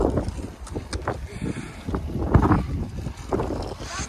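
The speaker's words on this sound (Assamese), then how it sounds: "খেৰখেৰীয়া বতাহ।" Strong, rough gusts buffet the microphone at the Bomdila viewpoint in Arunachal Pradesh, a continuous low rumbling roar with uneven surges throughout.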